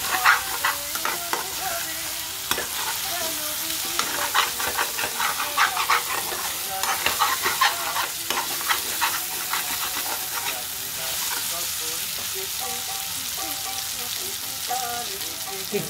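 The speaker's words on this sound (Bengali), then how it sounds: "যদি নেড়ে নেড়ে ফ্রাই করি" Onions and eggs fry for an egg do-pyaza made with sour yogurt, sizzling steadily while a utensil stirs with repeated scraping, knocking strokes that come in bursts and ease off toward the end.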